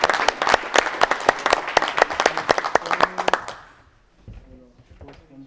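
A small audience at a platform launch event claps in a sharp, fairly close burst of applause lasting about three seconds, then fades out as a voice begins talking.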